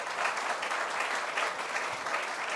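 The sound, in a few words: audience applause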